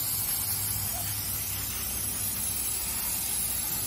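Brake cleaner sprays with a continuous hissing close by, steady and broadband without pause for several seconds.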